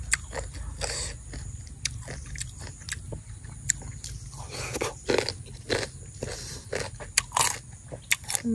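Close, crisp crunches as someone bites and chews sour green mango, with sharp irregular bites repeating throughout and no talking.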